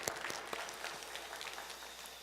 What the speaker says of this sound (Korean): 우리 목자, 목녀 되시는 분들을 위해서 큰 박수로 한번 격려하겠습니다.